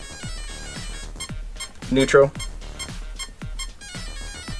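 An RC car speed controller gives short electronic calibration beeps in a quick series near the middle, with someone talking before and after.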